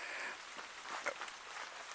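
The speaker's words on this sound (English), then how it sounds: "it's actually raining" Rain patters on leaves and ground in English woodland, a faint, steady hiss with scattered soft drips, heard alone without voices.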